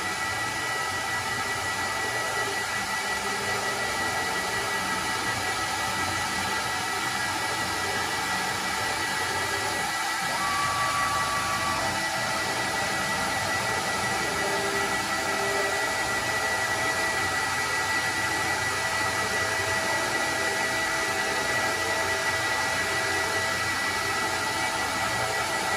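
A CNC router running at constant speed gives off a steady, loud broadband whir like a blower that holds unchanged for the whole stretch, with only a brief faint tone partway through and no speech.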